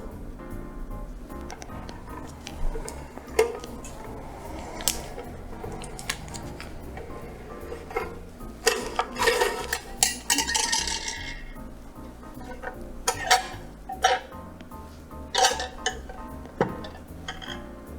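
A cheese wire slicing through soft Delice de Bourgogne cheese, heard as a string of light, close clicks, ticks and faint metallic scrapes spread across the cut, with no talking.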